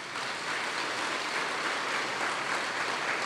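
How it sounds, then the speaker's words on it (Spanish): Steady, dense applause from a church congregation honoring a mother during a Marian jubilee service in San Marcos, Nicaragua, a close wash of many clapping hands sustained for the whole stretch with no talk. "Dele un aplauso a esa madre."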